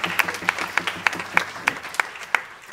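An audience at a stage show applauds in sharp, evenly spaced claps that fall into a steady rhythm, clear and fairly close.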